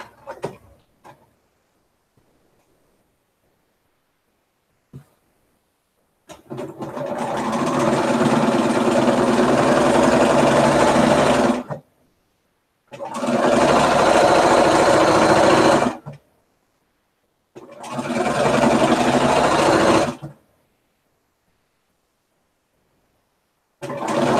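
Sewing machine stitching a jelly roll race quilt, running in three long steady bursts of several seconds each, separated by short pauses and near silence.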